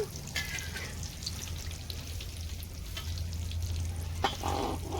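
Singaras (samosas) frying in hot oil in a home kitchen, a steady dense bubbling sizzle with occasional louder crackling bursts, close and continuous.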